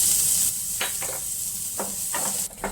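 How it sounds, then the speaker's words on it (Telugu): Onions frying in oil with mustard seeds for an eggplant chutney tempering, a steady close hiss broken by several short bursts of stirring and spattering, no talking. "ఇప్పుడు కొంచెము పచ్చివాసన పోయేంత వరకు ఉల్లిపాయలు వేయించుకోవాలి"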